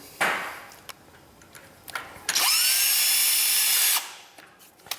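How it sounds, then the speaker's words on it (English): A power drill whirs in short bursts, then runs for a long, steady stretch as a self-tapping screw drives in, with small clicks and taps between. "These are self-tapping screws. So that means that they're going to drill their own way in"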